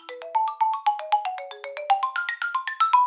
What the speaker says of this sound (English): if we go to the official Mario and Luigi's website and click on the phone number, we'll hear the following melody